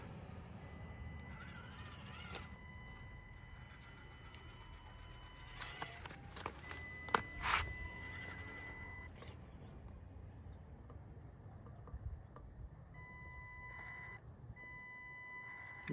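An Axial UTB18 Capra RC truck backing up, a faint high electronic whine and tones from the stock speed controller over soft rolling and crunching, with a few sharper knocks midway.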